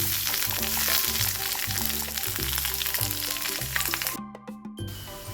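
Beetroot mix fries in hot oil with mustard seeds, dried red chilli and curry leaves, a busy crackling sizzle with sharp pops that drops away abruptly near the end before resuming.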